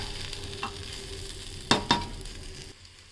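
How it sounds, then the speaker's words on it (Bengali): Tomato pieces and green chillies for khichuri sizzle in a pan, a steady frying hiss with two sharp clacks of a spoon stirring midway, no talking, fading at the end. "আর একটা টমেটো টুকরো করে দিয়ে দেবেন দিয়ে আরও কিছুক্ষণ একটু নেড়ে চেড়ে কষিয়ে নেবেন"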